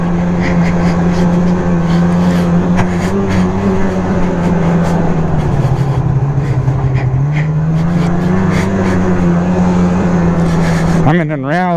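A Polaris Assault 850 snowmobile carrying two riders runs over bumpy snow, its engine a loud, steady drone that dips slightly in pitch midway and then recovers, before a brief warble at the end.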